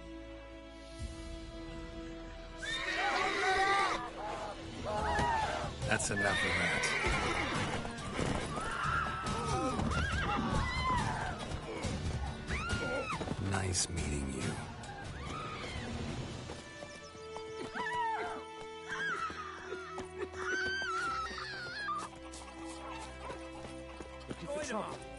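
Horse neighing and whinnying with clip-clop of hooves in The Witcher 3, repeated loud whinnies up close over hoofbeats, with people talking in between.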